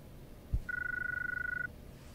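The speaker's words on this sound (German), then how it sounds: "Oh, Telefon." Telephone ringing in the Syberia II adventure game, a single short electronic trill with a fast warbling pulse, fairly quiet, just after a soft click, with no voices.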